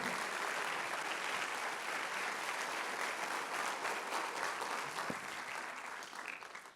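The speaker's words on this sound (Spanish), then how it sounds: "Dale un aplauso al Señor." Steady, dense applause from a large church congregation, sustained for several seconds before starting to thin out.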